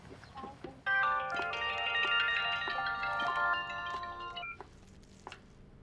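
A telephone number being dialed, a run of quick electronic key tones lasting a few seconds, fairly close and clear, with faint room sound around it.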